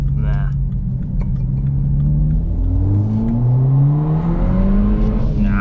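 BMW 1 Series car driving on snowy roads, its engine rising and falling in pitch through gear changes, with a steady low rumble and tire noise close up throughout; a voice talks lightly under the engine.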